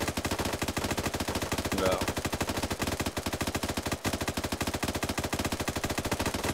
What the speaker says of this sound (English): Because they're shooting each other.